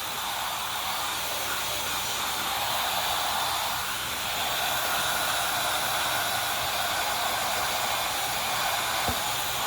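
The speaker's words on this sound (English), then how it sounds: "I'm trying to grab my heat gun" A heat gun drying paint on pumpkins gives a loud, steady blowing hiss from start to finish, with no breaks and no talking.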